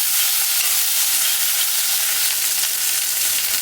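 Food fries in a pan in a home kitchen after salt and potatoes go in, giving a loud, continuous sizzle and hiss with no break.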